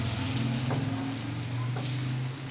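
Tomatoes and beef frying together in a pot for beef pulao give a steady, close, loud sizzle with a low rumble beneath, continuous throughout with no voices.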